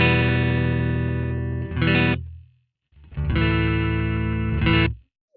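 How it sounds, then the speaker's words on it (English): An electric guitar chord played through a pitch-shift effect on a Quad Cortex, lowered a few semitones and slightly distorted; two sustained strums ring out and cut off, with a brief gap between them. "you can hear it shifting the pitch."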